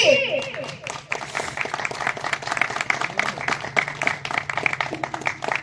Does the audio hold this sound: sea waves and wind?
no